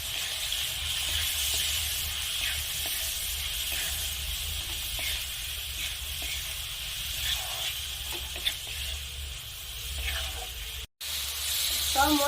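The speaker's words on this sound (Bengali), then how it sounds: "এখন আমি আরো 3 মিনিটের মতো নেড়ে চেড়ে কষে নেব।" Chicken coated in spices stir-fries in a pan for a home chicken curry, giving a steady close sizzle and hiss with faint scraping of stirring running throughout.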